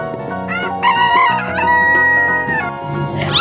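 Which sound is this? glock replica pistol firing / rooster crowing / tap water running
rooster crowing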